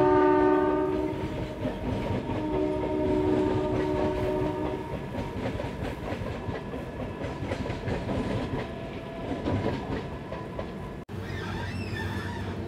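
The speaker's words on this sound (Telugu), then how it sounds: "Local train." A local train passes close by, opening with horn blasts over a loud rumble and clickety-clack of wheels that carries on, with a sharp break and more horn tones at the end.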